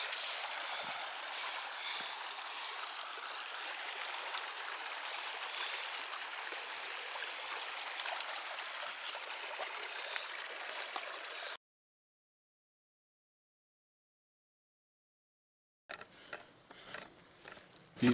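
A mountain stream on the Colorado Trail rushes steadily and close, a bright continuous hiss of flowing water that cuts out into silence and returns briefly near the end.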